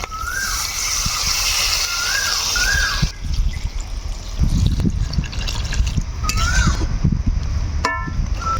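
Water poured into a cooking pot of goat lungs, a steady trickling splash heard with kitchen clatter and occasional bird calls in the background.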